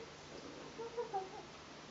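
A cat gives a short, soft, high meow in a quiet indoor room, faint and brief, with no talking over it.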